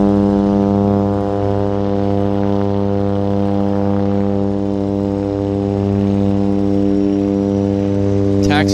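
A seaplane taxiing across the water at Vancouver's downtown harbour airport toward Port Moody gives a steady, loud droning engine hum that holds unchanged throughout, ending in a brief rustle.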